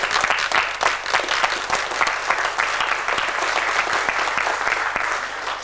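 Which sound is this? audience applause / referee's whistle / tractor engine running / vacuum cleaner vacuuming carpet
audience applause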